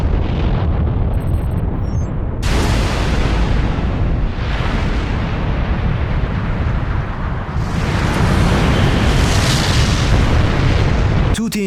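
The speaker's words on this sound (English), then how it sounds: "Zankyo no Tero shows us an atomic bomb explosion that checks off all the right marks." An atomic bomb blast from the anime Zankyo no Tero: a massive, roaring explosion rumbles loudly and continuously, swelling in waves of dense, sustained booming noise.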